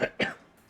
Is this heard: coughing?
yes